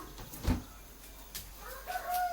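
Chickens at a market give a few clucks and a short crowing call, moderately close over a quiet murmur of background noise.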